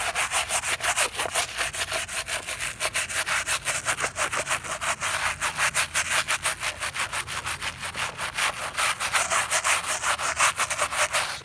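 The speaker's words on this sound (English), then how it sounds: "Scrub them all down." Car floor mats scrubbed with a brush during car detailing, fast rhythmic back-and-forth bristle strokes, loud and close, continuing steadily without talk.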